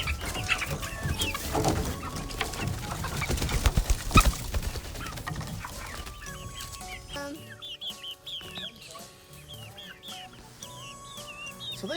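Young hens clucking on a farm, with bright, scattered calls that grow clearer toward the end over a busy, noisy background.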